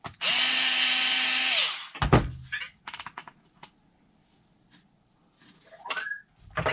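A power driver whirs loudly for about two seconds as it backs screws out of an RC car battery tray, followed by scattered clicks, taps and small plastic rattles of the parts being handled.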